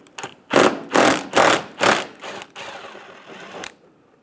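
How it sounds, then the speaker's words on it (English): A ratchet or power tool whirs in five quick, loud bursts while backing a 10mm bolt out of the bumper bracket of a 2005-2015 Toyota Tacoma, then trails off into a softer, steady spinning. "On the top, you're going to find a 10mm bolt. Remove the bolt."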